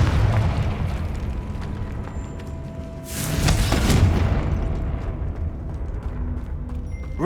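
A Confringo spell explodes in Hogwarts Legacy: one loud, broad fiery blast lands mid-clip and rumbles away over a steady low game ambience, with no talking.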